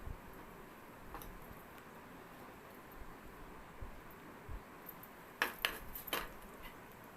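Cooked rice is packed into a lunch box in a home kitchen, soft spoon scrapes and light clicks over quiet background hiss, ending with a few sharper metallic taps.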